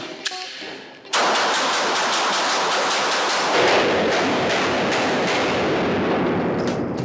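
Glock Gen 6 pistol shots at a shooting range: a rapid, loud string of sharp reports follows a quieter opening, the shots close and dense enough to blur together, with ringing noise after.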